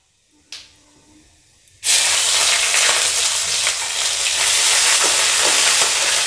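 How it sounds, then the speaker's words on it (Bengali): Ginger paste dropped into a pan with five-spice seeds sets off a sudden loud hiss that settles into a steady, close sizzle, after a brief quieter clatter at the start, with no talk. "আদাটা ততক্ষণ ভাজতে হবে যতক্ষণ না পর্যন্ত এটার কালার চেঞ্জ হয়ে যায়।"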